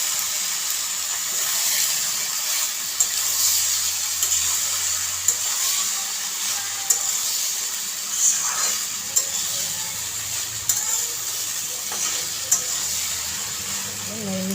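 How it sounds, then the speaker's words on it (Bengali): Pasta being stirred into a pan of fried chicken, a steady hiss of frying underneath with scraping strokes of a spoon at a regular pace, close by and moderately loud throughout. "পাস্তাগুলিকে নেড়ে মিশিয়ে নেব।"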